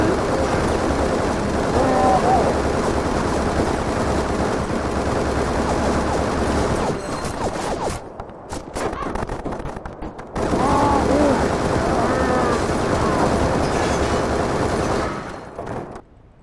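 Sustained rapid gunfire in the Xbox 360 game Bullet Witch, loud and continuous bursts that break off into a brief lull before resuming just as dense, then fading out at the end.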